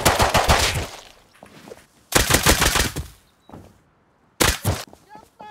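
Bursts of video game gunfire in a multiplayer shooter, three loud clusters of rapid shots separated by pauses, with players talking over and between them.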